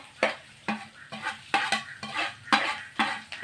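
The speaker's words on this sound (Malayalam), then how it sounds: "അതിലേക്ക് നമ്മൾ ചിരവി വെച്ചിരിക്കുന്ന തേങ്ങ ഇടുകയാണ്" Grated coconut roasting with green chillies in a pan for thenga varutha chammanthi, a low sizzle punctuated by regular scraping stirs, each stroke a quick rasping sweep, close and alone without talk.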